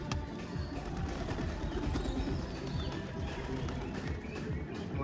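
Pigeons coo softly in a loft of birds kept for sale, low murmuring calls repeating under a dense, rustling background, faint and continuous.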